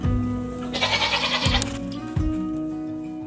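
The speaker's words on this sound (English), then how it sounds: "I'm here with my goats right now" Several goats bleat close by in a farm setting, a few loud wavering calls rising over one another with short gaps between them, and no talking.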